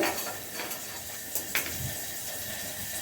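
Chopped onion going into hot cooking oil in a pan, giving a steady broadband sizzle and hiss from start to finish, with a few light clinks of a utensil against the pan and no voices.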